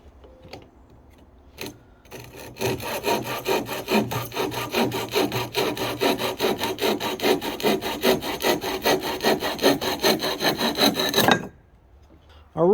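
A hand saw cuts through a length of wood to make a bow drill spindle, with rapid rhythmic rasping strokes close by that run steadily for about nine seconds, then stop, followed by quiet.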